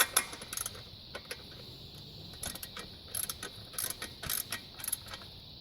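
A 10mm socket ratchet tightening a radiator guard bolt on a Honda Africa Twin CRF1000L, giving close, quick clicking bursts in short runs over a quiet background.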